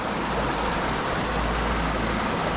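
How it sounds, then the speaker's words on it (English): Clear, cold mountain stream in Lauterbrunnen, Switzerland, flowing steadily as a close, even rush of water with a broad hiss and low rumble, continuous and without pause or talk. "You see the stream's water."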